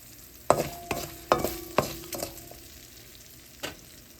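Cabbage and tempering spices being stirred and sautéed in a pan: a handful of sharp spoon-on-pan scrapes and clinks in an uneven rhythm, with soft sizzling between them. Close and fairly quiet, with no voices.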